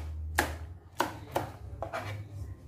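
A knife chopping chili peppers on a board while preparing Bisaya-style fish paksiw, four distinct sharp chops spaced about half a second apart over a low steady hum.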